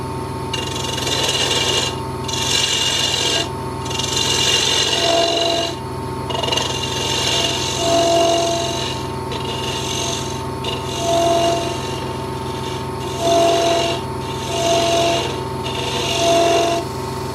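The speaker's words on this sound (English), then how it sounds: "I'll be using my small bowl gouge with swept back grind, my favourite tool." A small bowl gouge with a swept-back grind cuts a pewter bowl spinning on a lathe, giving a steady, close, continuous scraping rasp that pulses in repeated passes over a constant motor hum.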